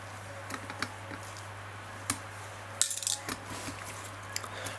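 Small metal pillar nuts from an Urgos mantle clock dropped into a dish, a few light, quiet clinks and rattles over a low mains hum in a calm workshop.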